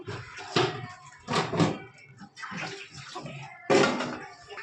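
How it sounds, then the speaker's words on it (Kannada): Strained jaggery water is poured into vermicelli cooking in a pan, giving several splashing pours and sizzling gushes separated by short pauses, close and moderately loud. "ಇವಾಗ ನಾನು ಬೆಲ್ಲದ ನೀರನ್ನ ಹಾಕ್ಕೋತೀನಿ ಇದಕ್ಕೆ ಸೊ ಸೋದಿಸ್ಕೊಂಡು ಹಾಕ್ಕೋಬೇಕು"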